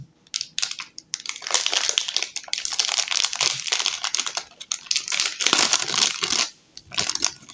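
A Temu parcel is torn open by hand, with plastic packaging crinkling, rustling and crackling loudly and close up in dense, continuous bursts, with only brief pauses.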